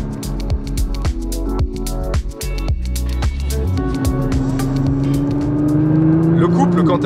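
A powerful Nissan GT-R Track Edition engine revs hard and climbs in pitch as it accelerates, loud and close, with a steady rising drone toward the end.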